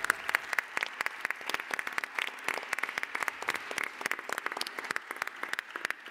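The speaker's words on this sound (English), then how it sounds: "could we also have a big round of applause for our interpreters and our technicians" Dense, steady applause from a conference audience honoring interpreters and technicians, many hands clapping at once for the full stretch without a break.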